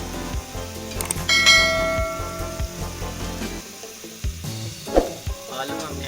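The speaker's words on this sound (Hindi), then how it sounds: "अच्छी तरह फ्राई करेंगे।" Bitter gourd and potato frying in a pan with masala, a loud steady sizzle with scraping stirs and a ringing metallic clink as the utensil strikes the pan, no voices.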